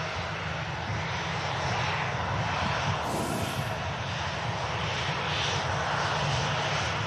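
A Ryanair aircraft from Barcelona landing at Manchester Airport gives a continuous broadband engine roar, steady and moderately loud, with a brief brighter whine partway through.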